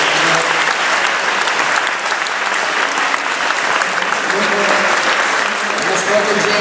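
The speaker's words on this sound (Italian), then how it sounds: "Io chiederei un piccolo applauso" Loud, dense applause from an audience filling a stage hall after a kendo demonstration at a Japan event at Ca' Foscari, a continuous wash of many hands clapping at an even level throughout.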